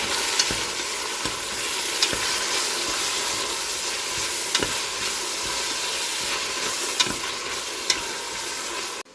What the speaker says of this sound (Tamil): வெங்காயம் கொஞ்சம் வதங்கட்டுக்கும்.